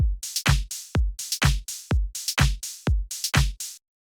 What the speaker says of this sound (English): that little tiny difference of the longer hi-hat being choked by the smaller one